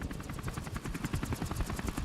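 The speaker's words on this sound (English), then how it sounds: "apparently we're getting escorted via helicopter" A helicopter escort in the Modern Warfare Remastered campaign mission Blackout gives a fairly quiet, rapid, steady rotor chop that pulses evenly throughout, mixed with a dense, rumbling battle background.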